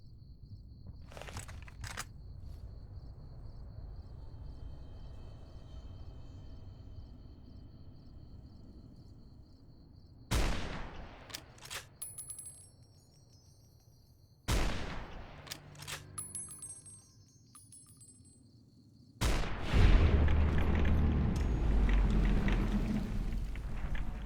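A high-damage, slow-firing heavy cannon booms in a video game fight against tough enemies at close quarters, with four loud, widely spaced blasts, each followed by rumbling debris over a low background hum.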